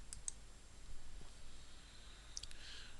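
Sharp computer mouse clicks come in small bursts, a couple near the start and another pair later, crisp and close against a quiet room hum while website counter settings are clicked through.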